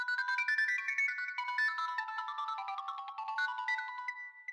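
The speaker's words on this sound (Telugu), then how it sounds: "ఫోన్ వస్తుంది" A phone ringtone plays alone as a bright, clear melodic tune that repeats across the whole stretch at a steady moderate level, with no voices.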